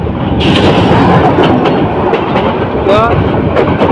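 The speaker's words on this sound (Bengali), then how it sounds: "কন্টেনার পাশে ট্রেন অতিক্রম করে যাচ্ছে" A train rolls past close by alongside a container near Bhairab Bazar junction, a loud steady rumble of wheels on rails with rhythmic clatter and a brief squeal.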